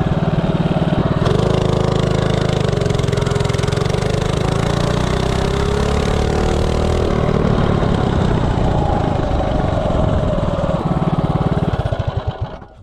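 A Predator 224 small engine fitted with a Coleman 196 cylinder head revs hard as the machine accelerates from a standstill, a loud, close, continuous buzzing drone that climbs in pitch, holds, then cuts off sharply at the end.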